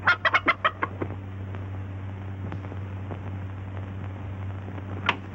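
Rooster clucking at a hen sitting under a bed indoors, a quick burst of several loud clucks at the start, then a quieter stretch with one more cluck near the end over a steady low hum.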